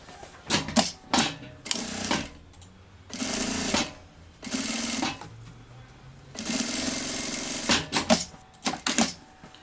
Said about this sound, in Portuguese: E aqui eu vou passar uma costura de um pé de máquina.